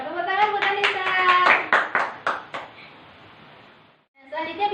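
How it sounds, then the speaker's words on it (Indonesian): Children in a classroom give a short burst of hand clapping during a microteaching lesson on evolution theory. Voices come first, then several sharp claps trail off, and talk resumes at the end. "Tepuk tangan buat Anissa"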